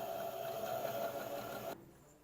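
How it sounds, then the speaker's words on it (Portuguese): A sewing machine running a straight stitch along a blouse collar, a steady close whirring hum with fine rapid needle clatter that stops abruptly near the end, no voices present. "Agora eu vou passar uma costura reta aqui."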